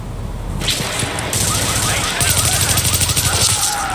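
Automatic rifle fire rattles in the shooter video game The Division, starting with scattered shots and building into sustained bursts, loud and close, with sharp cracks stacked over a continuous roar.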